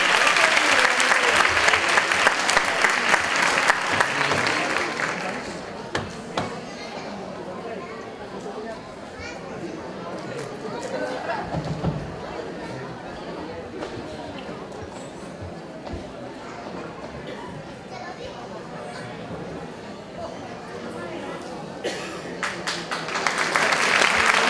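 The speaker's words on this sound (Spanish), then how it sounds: "Un fuerte aplauso para ellos." An audience at an arts fair claps for dancers, loud thick applause at first that fades into quieter scattered clapping and crowd murmur before swelling again at the end.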